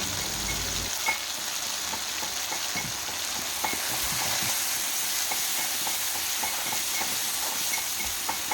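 Ginger garlic paste sizzles and fries steadily in a pan while a chole masala is cooked, a continuous close hiss with small crackles and occasional stirring scrapes, no talking.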